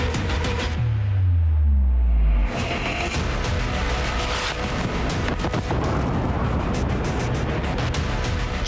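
Missile attack explosions, a continuous loud roaring rumble with a deep descending boom early on, dense crackling noise throughout.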